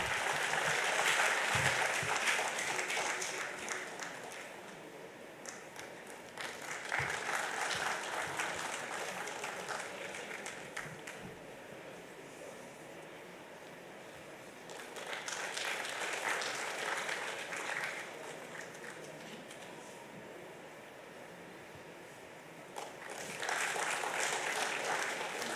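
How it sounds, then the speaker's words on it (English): An audience at a national accountants' convention claps in a hall, the applause rising and falling in several waves, fairly distant and soft, with brief lulls between bursts. "Can we have a huge round of applause,"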